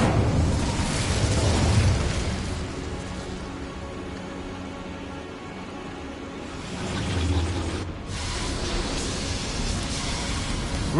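A roaring, crackling burst of fire from the Incendio spell in Hogwarts Legacy swells loudly, fades to a sustained rumble and surges again near the end, with no talking over it.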